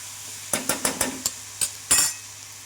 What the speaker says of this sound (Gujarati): નીચે આપણે લસણવાળું મરચું નાખ્યું છે એટલે એક વખત આપણે હલાવી લેશું